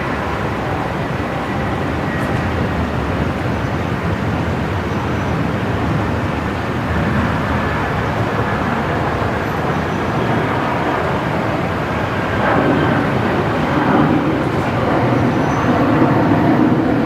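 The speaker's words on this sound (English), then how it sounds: "Jetstar 635 heading off there." A Jetstar airliner takes off from Brisbane Airport, giving a loud, broad and steady jet roar that swells slightly toward the end, with no talk over it.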